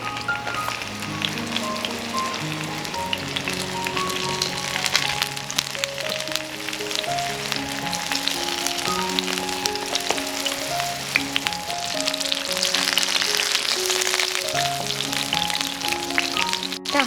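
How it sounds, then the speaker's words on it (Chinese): A scallion beef pancake fries over medium heat in a covered pan, giving a steady crackling sizzle throughout with soft background music and no talking. "全程用中火来煎葱花牛肉饼"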